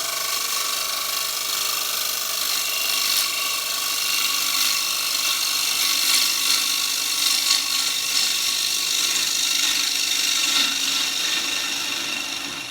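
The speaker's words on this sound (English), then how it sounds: "pull the chisel back in towards you so you're rubbing that bevel" A woodturning chisel makes fine cuts on a lathe, a steady, continuous hiss and whir of the bevel rubbing on spinning wood that lasts throughout at an even level.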